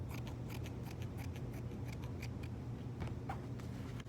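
Scissors snip through cotton lining fabric for a face mask in a steady run of crisp, closely spaced cuts, close up over a constant low hum, with no voices.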